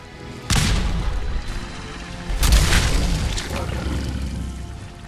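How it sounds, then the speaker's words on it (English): A thrown grenade explodes in Fallout 4: Far Harbor, with a heavy boom near the start and a second deep blast about two seconds later, each followed by a rumbling tail. "Have a grenade."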